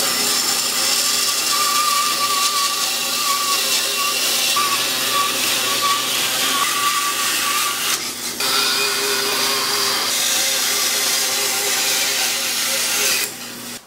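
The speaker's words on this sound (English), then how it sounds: "I'll go ahead on the bandsaw and cut this piece out." A bandsaw cuts steadily through a wooden 2x4 dragster body, giving a continuous loud hiss and rasp with only brief dips in pitch as the blade works through the wood.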